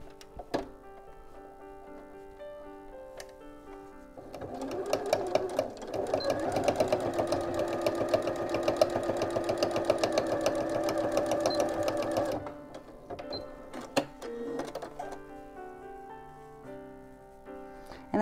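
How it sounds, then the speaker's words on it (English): A sewing machine stitches across the bottom of a tote bag made from an upcycled sweater and denim, running steadily for about eight seconds with a rapid mechanical whir, framed by quieter handling thumps before and after. "I'm just going to sew across the bottom"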